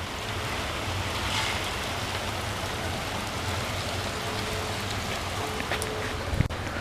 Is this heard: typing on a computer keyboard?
no